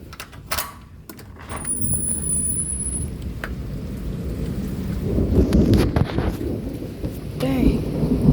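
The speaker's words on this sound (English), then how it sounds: "See how bad a storm can get?" A severe thunderstorm with 60 mph winds: loud, continuous roaring wind and heavy rain fill the clip, with rumbling thunder swelling toward the end, heard from just outside a doorway.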